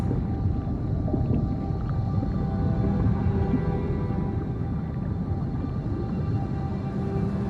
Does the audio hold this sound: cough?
no